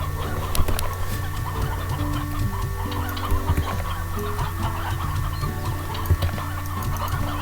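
Hens cluck repeatedly in the video game Slime Rancher, with short rhythmic clucks and occasional louder squawks over a steady background of game music and ambient tones.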